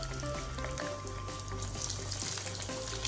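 Crispy vegetable and corn cutlets frying in oil in a pan, giving a continuous dense sizzle that is close and steady throughout, with no talking.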